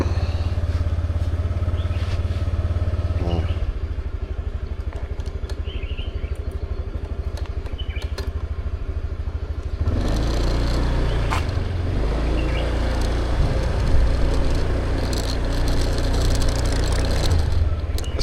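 A motorbike engine starts and runs steadily in a Chiang Mai street, then its sound thickens into a fuller, louder roar partway through as the ride gets underway, with no talking.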